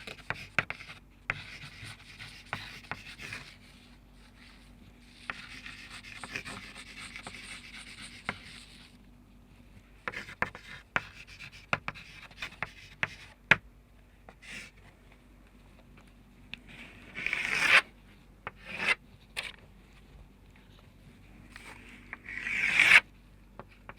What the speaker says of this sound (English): So I'm going to write the title of the text.